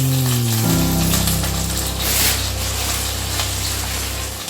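Burger buns set down in a hot pan for Gouda burgers, giving a steady, loud sizzle that starts with a soft contact and continues evenly to the end, with a low hum underneath.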